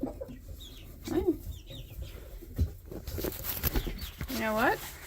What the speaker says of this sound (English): there's a hen in the nest